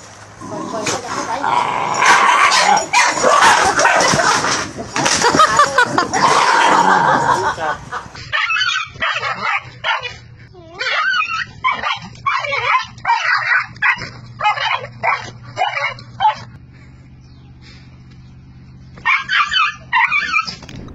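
Puppies and dogs bark, yip and whimper in played-back footage, the barking loudest early on, then scattered yips under and between a man's speech.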